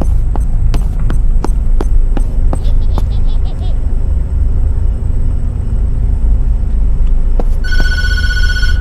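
A telephone rings inside the Tattletail horror video game, a bright electronic ring that surfaces near the end over a constant low rumble and throb, with scattered sharp clicks earlier on.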